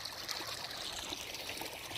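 Small waterfall spilling over a dammed prospecting sluice, a steady close trickling and splashing rush of water, continuous and fairly faint, with no voices.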